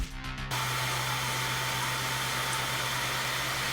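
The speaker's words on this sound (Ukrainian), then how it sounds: "Навіть кулер є для охолодження." A small cooling fan on a processor runs continuously, a steady airy whir with a low hum, close and even, starting abruptly after a brief moment of quieter background.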